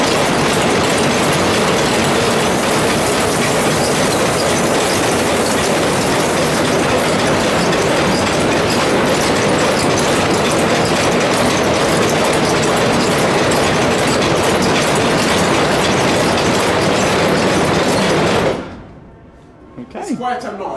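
A steam train engine gives a loud, continuous roaring rumble with rhythmic clatter running steadily throughout, then drops away abruptly near the end.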